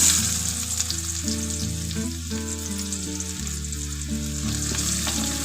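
Finely chopped onion sizzles steadily in a pan for green masala chicken, a constant crackling hiss lasting throughout, with a low tonal hum running beneath it.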